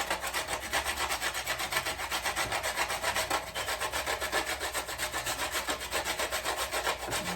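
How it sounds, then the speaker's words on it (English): Hand grating of an ingredient for Jamaican fruit cake, a steady rapid rasping scrape repeated in even back-and-forth strokes, close and continuous with no talking. "Take my time to grate this thing."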